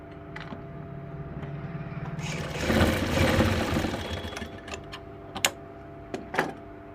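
A sewing machine stitches a blouse sleeve seam where shoulder and sleeve join, its motor whirring in one loud, steady run midway, framed by quieter handling clicks and sharp knocks.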